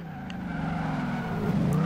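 A Mercedes G-Class driven in the racing video game Forza Horizon 2, with a loud, steady engine roar and screeching tire skids, the engine note climbing gradually over a couple of seconds.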